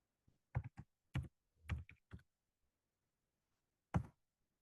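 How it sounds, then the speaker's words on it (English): Someone types a password on a computer keyboard: several short clusters of key taps close to the listener, then a pause and one final firmer tap, likely the enter key, with otherwise quiet surroundings. "And then I will type in my password."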